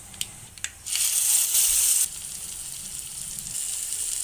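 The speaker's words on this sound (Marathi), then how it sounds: "हे वाटण आता व्यवस्थित परतून घेऊया" Ground spice paste tipped into a tempering of mustard seeds, curry leaves and turmeric for Malvani tomato saar bursts into a loud, close sizzle for about a second, then settles into a softer steady frying hiss, with no talk.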